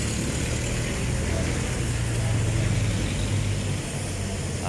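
Cars moving through traffic on a rainy street in Quiapo, Manila, during a typhoon: a continuous low engine drone and tire hiss over steady rain noise, close and unbroken, with no one speaking.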